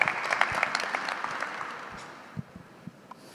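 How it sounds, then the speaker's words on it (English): Applause from an audience at a university health interview event, a burst of clapping that fades steadily over a few seconds, leaving a few scattered late claps near the end. "Please give him a round of applause."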